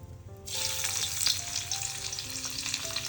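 Crushed garlic drops into hot oil in a pan over a wood-fired stove and bursts into a loud, bright sizzle that settles into steady close-up frying crackle.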